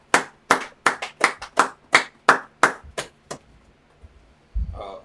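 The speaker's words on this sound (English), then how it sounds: "clap it up for the brother" A congregation at a Sabbath service in Milwaukee claps about a dozen crisp claps together in a quick, steady rhythm. The claps fade out, and a short burst of voice follows.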